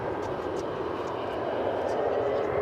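A Frontier airliner at DFW Airport rumbles with a steady, moderately distant engine roar that holds constant throughout.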